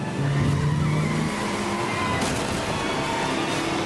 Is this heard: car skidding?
yes